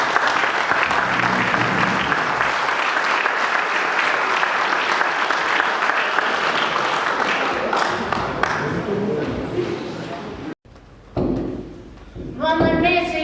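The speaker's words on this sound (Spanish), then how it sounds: "le damos un aplauso nuevamente a los panelistas" A large crowd at a book presentation applauds loudly and steadily for several seconds, the clapping fading out before a brief pause and some voices and music.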